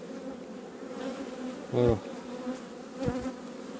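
Honeybees from a hive holding a 2019 queen hum in a steady, close drone throughout, with a short spoken word in the middle.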